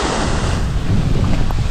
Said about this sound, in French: Ah, c'est trop bon quand il y a du vent